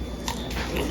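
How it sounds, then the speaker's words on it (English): Two or three sharp crunchy bites into fried samosas close to the microphone in quick succession, with no talking. "They're so crunchy and good."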